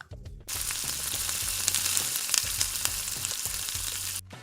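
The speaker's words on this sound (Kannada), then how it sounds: "ಸ್ವಲ್ಪ ಅರಿಶಿನ ಮತ್ತು ಕೊತ್ತಂಬರಿ ಸೊಪ್ಪು ಹಾಕ್ಕೊಂಡು ಫ್ರೈ ಮಾಡ್ಕೊಂಡಾದ್ಮೇಲೆ" Onion, peanuts, turmeric and coriander leaves fry for a coastal-style fish curry masala, a close, steady sizzle with scattered crackles and stirring scrapes that starts abruptly and cuts off at the end.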